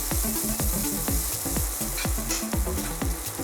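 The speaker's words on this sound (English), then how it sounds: "And now we can mix this all up and let it saute for 30 seconds." Brown rice and vegetables sauté in a hot pot, giving a loud, close sizzle broken by regular scraping stirs and clacks about twice a second.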